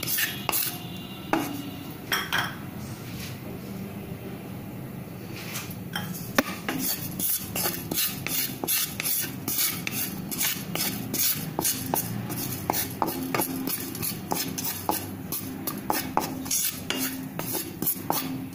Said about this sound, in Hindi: ये देखिए मैंने तिल को भूनने के लिए रख दिया है।